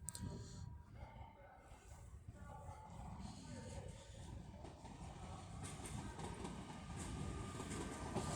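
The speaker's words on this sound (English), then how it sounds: "the next train to be coming in will be a Trans-Pennine Express 802 from Liverpool Lime Street" A TransPennine Express class 802 train from Liverpool Lime Street arrives at York station on the East Coast Main Line, its steady rumbling roar building gradually over several seconds, with faint clatter and no talk.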